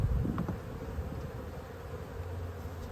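Steady low insect hum fills the clip, a dense, close buzz of many honey bees droning continuously inside an opened hive during a late-winter inspection, with no voices.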